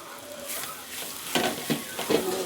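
Spices stirred into a clam thoran in a frying pan, steady sizzle under repeated scraping strokes of a spoon, close and moderately loud, no voices.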